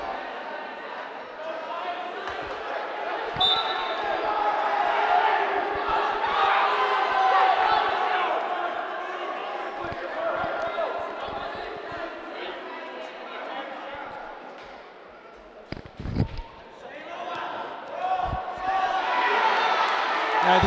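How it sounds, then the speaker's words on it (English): Crowd noise fills a high school boys' varsity wrestling match against Woburn, a steady roar of cheering and chatter that swells and dips, with a commentator speaking over it. "Crowd's loving it, getting their money's worth."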